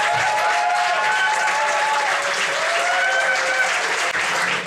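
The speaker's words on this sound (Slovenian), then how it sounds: "Kdo je za Andreja naj ploska zdaj?" A standup roast audience claps in steady, dense applause across the whole stretch, loud and close, with a few whistles or shouts on top and no speech over it.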